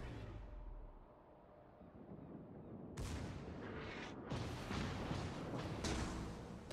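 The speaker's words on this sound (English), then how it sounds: "Now my division mate is engaging the Congo, and that's a battle he should win without a problem, while I'm engaging the König." Battleship main guns firing in World of Warships, deep heavy booms from the battleship Mutsu, a sharp salvo striking partway through and followed by sustained rumbling blasts over ocean ambience.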